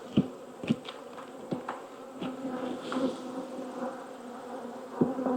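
Honey bees buzz steadily around an open hive, a close, continuous drone with individual bees zipping past the ear in sharp bursts.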